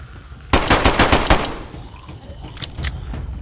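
Rapid automatic gunfire in the zombie survival game DayZ, a burst of about eight close, loud shots in quick rhythm, followed by fainter, more distant shots and low background noise.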